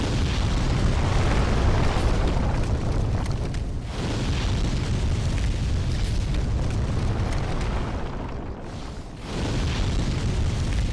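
A fire-breathing attack in the video game Demon's Souls roars as a dense, loud, sustained blast that fills nearly the whole stretch, dipping briefly twice before surging back.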